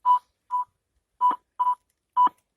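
A metal detector gives a repeating signal tone while sweeping for targets: six short, clear beeps in an uneven rhythm, alone and with no talk.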